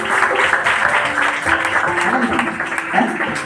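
A church congregation claps along at a religious gathering, steady dense hand-clapping throughout with voices mixed in underneath.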